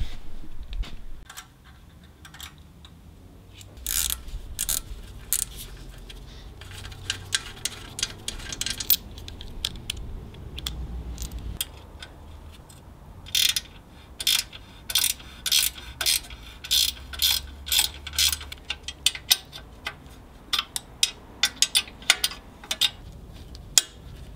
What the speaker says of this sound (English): And there is just one more screw. Super easy to loosen.